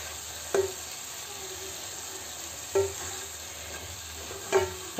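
A spoon stirs pumpkin curry in a pan, scraping three times at a steady, evenly spaced rhythm over a quiet, constant sizzle. No voices are heard.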